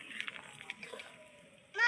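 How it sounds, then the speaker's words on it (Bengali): Vinegar and water poured bit by bit into milk while it is stirred to curdle it into chhena for rasgulla; soft, faint sloshing and splashing with small liquid ticks, quiet and close. "আমি একটা বাটিতে ভিনিগার আর জল নিয়ে নিয়েছি, সেটা দিয়ে এবারে আমি এই দুধটাকে কাটিয়ে নেব।"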